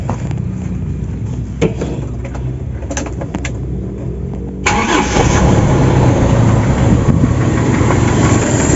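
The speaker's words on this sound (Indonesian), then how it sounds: "Mari kita hidupkan mesinnya teman-teman. Dikocok dulu 3 kali, lalu kita starter." Toyota Kijang engine being started after the accelerator is pumped three times: starter cranking for several seconds, then the engine catches and settles into a loud, steady idle, up close with no talk.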